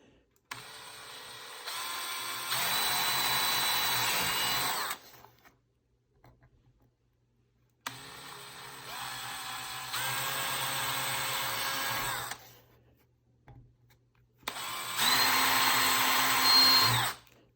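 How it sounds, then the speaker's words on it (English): Three bursts of a power drill whirring at high speed, each several seconds long and separated by brief pauses, close by with no talking. "I'm going to drill a hole at each of the intersections of there."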